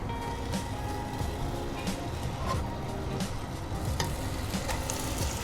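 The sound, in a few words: sweetened condensed milk boiling in pan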